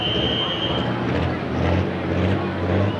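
A 10,000 lb pro pulling tractor at a 1996 Taylorville, Illinois pull idles heavily in gear as it takes up chain slack, a steady loud engine rumble with crowd and ambient noise mixed in.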